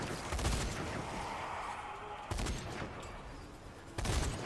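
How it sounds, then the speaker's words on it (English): Machine gun fire in the zombie shooter Zombie Army 4, heard as bursts of loud, close gunfire with a few sharp volleys standing out against a continuous noisy game background. "it's just a regular machine gun, not a Greek."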